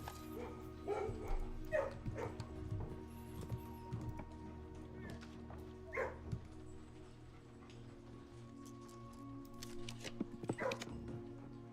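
Dogs in the kennel in the video game Blue Prince give yips, soft barks and whimpers at scattered moments over a steady low tonal background, moderately quiet.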